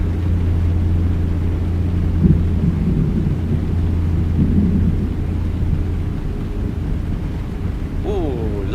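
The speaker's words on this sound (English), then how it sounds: "we got a storm." Low rumbling thunder rolls beneath steady rain and wind noise in a truck simulator video game, a long continuous storm bed with a brief higher tone near the end.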